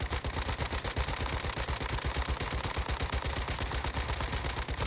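A gun in the shooter video game Once Human empties a full magazine into a boss, a loud, continuous rapid stream of evenly spaced automatic shots lasting several seconds.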